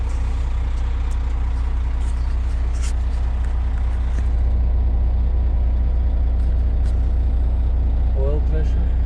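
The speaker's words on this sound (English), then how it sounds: "Let's start the truck." A Volvo VNL truck's diesel engine idles after starting following a fuel filter and water separator change, a deep steady low rumble that stays even and constant with faint clicks above it.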